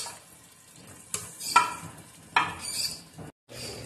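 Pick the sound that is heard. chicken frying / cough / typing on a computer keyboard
chicken frying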